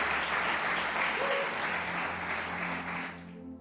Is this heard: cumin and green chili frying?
no